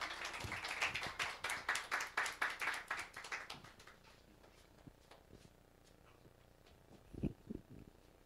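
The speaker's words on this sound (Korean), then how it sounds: "큰 박수로 맞이하겠습니다." A church congregation claps in rhythm for a few seconds, a regular beat of loud hand claps that fades into quiet room noise with a few scattered thumps later.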